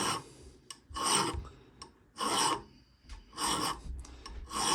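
Slow rasping strokes of a hand file cutting a pattern into a knife blade, four loud scraping passes with brief clicks and gaps between them, close and clear.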